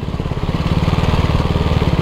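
A KTM 390 Duke's single-cylinder engine thumps at a steady, rapid pulse during a test ride, loud and close, with a rough low drone and no talk.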